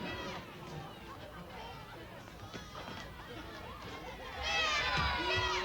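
A rowdy nightclub audience at a comedy show makes a steady murmur of chatter and babble, rising louder toward the end with some shouting, heard from across the room.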